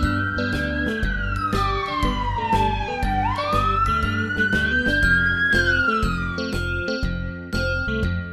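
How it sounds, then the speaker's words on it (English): A wailing emergency siren rises and falls loudly and close, sweeping up and down in pitch over a steady rhythmic musical backing with percussive hits. "ambulance."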